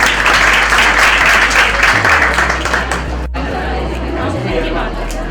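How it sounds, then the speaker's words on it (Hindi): Audience applause at a certificate award ceremony at a computer center, loud sustained clapping from a crowd that continues throughout. "जो आप ताली बजाएं।"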